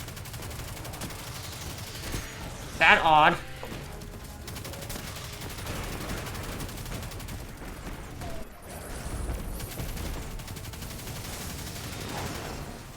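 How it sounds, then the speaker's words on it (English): Cannon fire in an online multiplayer shooter game: a loud burst of shots near the three-second mark over a constant din of battle noise, with players talking faintly now and then. "Why is my cannon not hitting him?"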